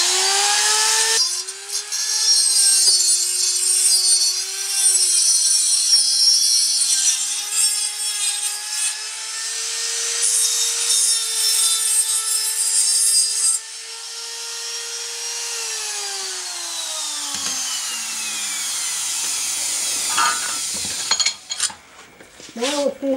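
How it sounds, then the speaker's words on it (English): A high-speed grinder widens a hole with a continuous shrill whine that dips and recovers in pitch as it bites, running for about twenty seconds close up. "This is a high-speed grinder."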